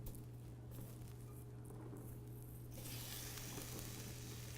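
Tomato dropped into a hot pan, where a quiet background of low hum and faint hiss gives way to a brighter, steady sizzle partway through, close but soft with no talk.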